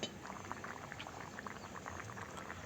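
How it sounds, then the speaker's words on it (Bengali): Fish curry broth bubbling at a boil in a pot, a soft, steady burble of small popping bubbles, quiet and continuous with no voices. "মাছগুলো দেওয়ার পরে আরও কিছুক্ষণ ফুটিয়ে নিব"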